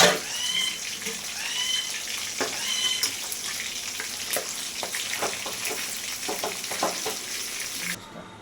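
Fish fry in hot oil with a steady, close crackling sizzle, broken by scattered sharp pops and occasional stirring clinks throughout, without any voices.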